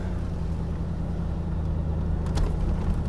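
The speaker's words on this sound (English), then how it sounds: "let's close it up and take it for a little ride." A 1973 Mercury Marquis Brougham cruising on the road, heard from inside as a steady, smooth low engine and road rumble with no talking, growing slightly louder toward the end.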